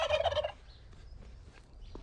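A loud burst of poultry calling at the start, then quieter farmyard background with faint scattered bird sounds.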